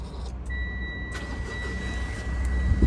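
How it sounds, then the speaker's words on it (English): Keyless push-button start of a 2021 Mitsubishi Triton GSR ute, heard from inside the cab as a steady, fairly loud engine rumble that settles into idle, with no talking. "foot on the brake, push button start."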